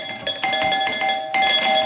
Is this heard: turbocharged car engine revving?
no